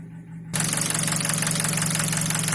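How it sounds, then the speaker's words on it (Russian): A Nissan QG18DE engine idling with a knock, joined by the rapid ticking of gas injectors. The noise starts abruptly and then runs as a loud, close, steady rhythmic clatter. "Как вы слышите, к стуку двигателя прибавились еще стук работы форсунок газовых."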